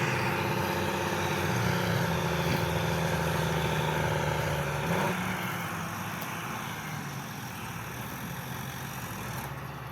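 John Deere tractor engine running under load while clearing forest land into a field, a steady droning rumble at moderate distance that eases slightly partway through, with no talk.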